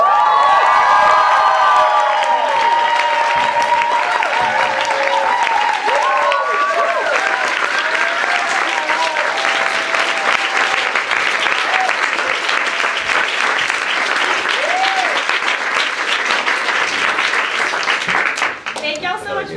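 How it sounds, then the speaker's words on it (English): An audience at a live monologue performance event bursts into loud, sustained applause mixed with cheering, whoops and excited shouting, a dense roar of clapping that carries on for nearly twenty seconds before tapering off. "Warm round of applause for Jordana for organizing."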